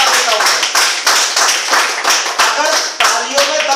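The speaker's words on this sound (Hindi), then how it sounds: "जोरदार तालियों के साथ आगे भी बता देता हूं" A seminar audience claps loudly and close in unison at a talk, a strong rhythmic series of about a dozen synchronized bursts with a steady regular beat.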